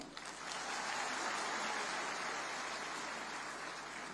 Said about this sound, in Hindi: आप सबके जो वक्ता यहां आए उनके सम्मान में एक बार जोरदार ताली